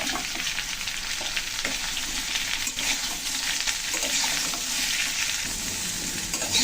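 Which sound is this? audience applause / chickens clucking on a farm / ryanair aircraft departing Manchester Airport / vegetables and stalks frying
vegetables and stalks frying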